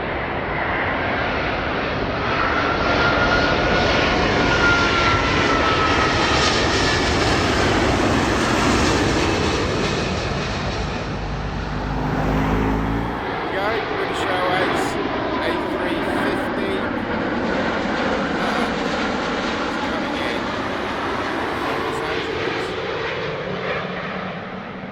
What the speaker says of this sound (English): And here we have the British Airways A350 from LAX.